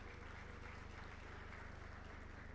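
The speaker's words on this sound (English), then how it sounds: "they deserve a huge round of applause from all of you" Steady applause from an audience, a dense, even patter of many hands clapping at moderate level throughout, with no voices.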